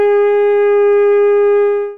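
Alto saxophone mouthpiece and neck blown alone, giving one steady, loud, bright sustained tone with strong overtones that holds for about two seconds and then stops.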